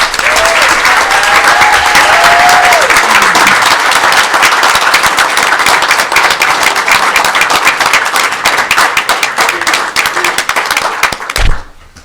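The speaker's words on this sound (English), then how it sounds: "let's give them a big round of applause" At a Bolivar city council meeting, the room gives county champion middle school softball players a big, loud round of applause, sustained dense clapping for about eleven seconds before stopping abruptly.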